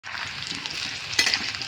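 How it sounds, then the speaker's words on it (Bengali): Potatoes fry in white oil in a pan with a steady, close sizzle that holds evenly throughout, and a brief louder spatter near the end. "আলুটা একটু লাল লাল করে ভেজে নেব"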